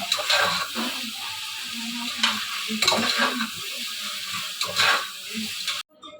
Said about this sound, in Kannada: ಟೊಮೆಟೊ, ಈರುಳ್ಳಿ, ಮೆಣಸಿನ್ಕಾಯಿ ಇದನ್ನು ಹಾಕೊಂಡು ಫ್ರೈ ಮಾಡ್ಕೊಳ್ತೀನಿ.